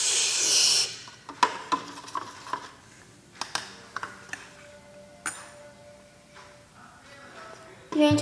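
A spoon stirs homemade cornstarch mixture in a small container, a series of scraping rubs and light clinks of metal against the sides, irregular and close, after an initial burst of hissing noise.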